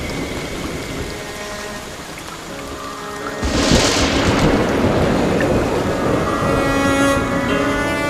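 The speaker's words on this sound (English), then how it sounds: "Rain falls in vast quantities in the forest, with millions of litres pouring down each day." Heavy rain pours down in an Australian rainforest, a dense continuous wash of drops that swells suddenly louder a few seconds in and stays steady and close, with no voices.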